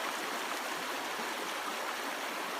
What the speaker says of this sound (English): Back at the river crossing, and it is up about half a foot. It's a lot faster than usual too